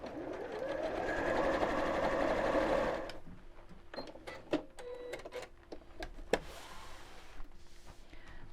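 A sewing machine stitches fabric for a quilted clutch bag at a lengthened 2.8 stitch, running steadily for a few seconds with a fast whirring hum, then stops, followed by scattered clicks and small handling noises.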